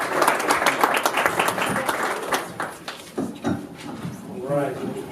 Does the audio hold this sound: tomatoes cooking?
no